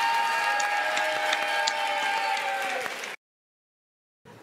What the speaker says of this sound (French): On applaudit Nicolas et sa petite famille.